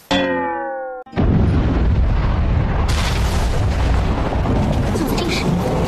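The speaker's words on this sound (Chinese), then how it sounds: "就在这时，一道道剧烈的爆炸声突然响起，不远处的住宅区响起了炸雷般的声音。" Violent explosions like thunder erupt from a residential area not far away: a tonal lead-in cuts off into a loud, sustained roaring rumble that continues without letting up.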